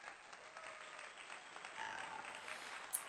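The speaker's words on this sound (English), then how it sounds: "let's give them a hand of applause" A small group applauds at an informal talk session, a soft, steady patter of clapping that stays fairly even and somewhat distant for about three seconds.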